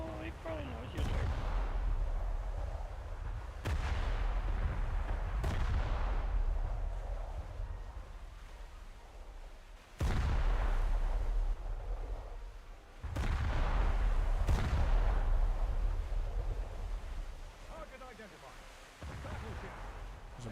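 Heavy battleship gunfire in a naval video game, deep booming blasts landing every few seconds with rumbling tails, a loud pair near the middle, under occasional player talk.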